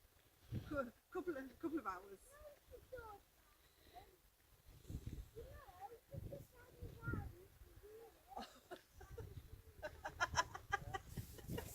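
Chickens cluck in short, scattered bursts outdoors on a breezy hillside at Mam Tor, faint and intermittent, with someone talking over them.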